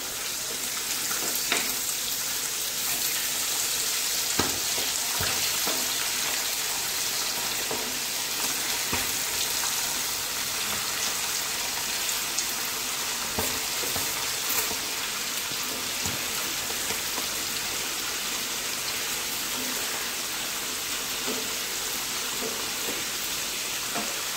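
Kerala-style chicken frying in hot oil, giving a steady, close, crackling sizzle that runs unbroken throughout, with occasional light clicks and pops.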